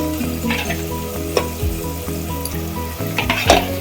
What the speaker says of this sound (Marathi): आता मी कलेजी घालून घेते, कलेजी आणि पेटा त्याच्यात घालून घेते।